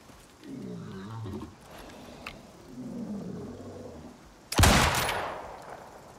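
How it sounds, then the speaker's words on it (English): A bear in the survival game Icarus, met at the entrance to the Arctic, lets out a single loud, close roar that cuts in abruptly and trails off, after a quieter stretch of low rumbling growls. "a bear ready to greet me on the entrance to the Arctic"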